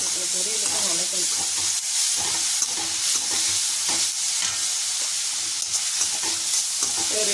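Vegetables for a Tamil poriyal, cluster beans and ivy gourd, sauté and sizzle in a pan with a steady, close frying hiss, punctuated by occasional stirring scrapes.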